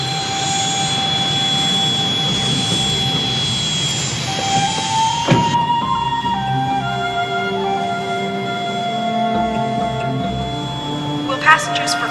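Jet airplane engine whine at an airport, a steady roar with shifting high tones that drops in pitch partway through, heard alone at moderate loudness.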